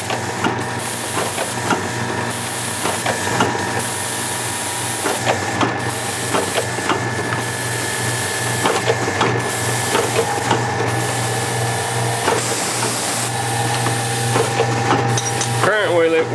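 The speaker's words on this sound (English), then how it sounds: "This is our station that just transfers from our linear strap conveyor to a transfer conveyor" A linear strap conveyor hands parts off to a transfer conveyor at a factory station, producing steady mechanical hiss and rubbing with repeated clacks and rattles, loud and continuous nearby.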